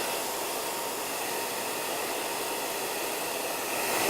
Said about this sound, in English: It's the blow dry.